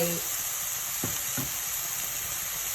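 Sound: pork ribs frying and sizzling in a pan

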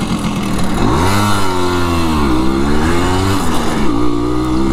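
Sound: Simson S51 moped riding with passenger

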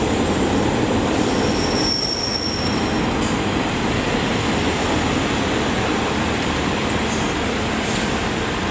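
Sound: Great Western Railway train at Exeter Central station, wheels squealing

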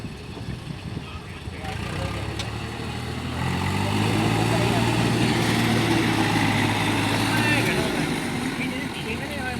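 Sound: tractor engine running during a test drive

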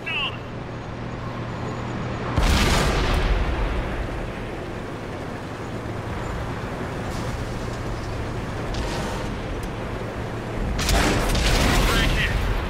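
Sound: tank ammo rack explosion in World of Tanks video game

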